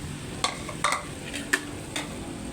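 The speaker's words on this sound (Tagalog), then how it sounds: "Lutuin natin ng bahagya. Lagay na rin itong gulay na sinet aside ko." Sotanghon noodles and vegetables cooking in a pan, a soft continuous sizzle broken by several sharp clacks and scrapes of a utensil stirring against the pan.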